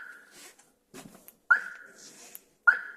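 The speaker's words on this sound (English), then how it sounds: "so arm, disarm, 2 beats for disarm" Bailey Unicorn Cadiz caravan alarm giving sharp electronic beeps as it is armed and disarmed: a steady tone near the start, then two separate loud beeps later, each with a sharp attack, with quiet handling noises between them.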